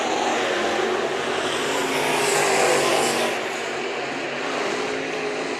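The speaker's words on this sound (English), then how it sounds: "these modifieds are flying around this racetrack" Modified race cars scream around the fast third-mile oval at Bakersfield Speedway, a steady, loud engine roar that swells as the pack passes and then eases slightly, with no talk.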